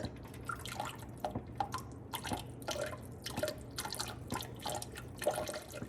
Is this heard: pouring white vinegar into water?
yes